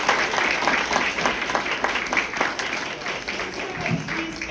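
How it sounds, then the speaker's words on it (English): Steady applause from the audience at a Women's History Month meetup in Murphy, Texas, dense clapping filling the room without pause for several seconds, with a low voice faintly underneath near the end. "Let's give her a round of applause."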